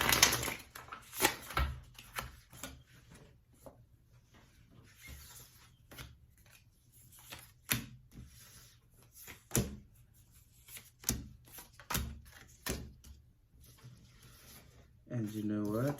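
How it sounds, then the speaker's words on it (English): Tarot cards get shuffled messily by hand in irregular bursts of soft riffling and flicking, with quiet pauses between handfuls, ending in a louder rustle. "I'm a messy shuffler"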